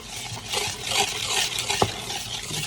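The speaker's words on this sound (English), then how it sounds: "just whisking it" A whisk stirs flour, salt, sugar and baking powder in a bowl, making a quick rhythmic scraping and swishing with one sharp tap against the side.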